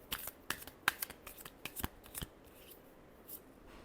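Tarot cards are shuffled close by, in a quick series of sharp riffling snaps and slaps that thin out into quieter rustling toward the end.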